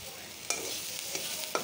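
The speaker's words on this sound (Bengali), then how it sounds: "একটু তেল দিয়ে ভাজা ভাজা করব" Dried chepa fish frying in oil with onion, green chili and garlic, a steady close sizzle and hiss broken by a few sharp scrapes of stirring, with no voices.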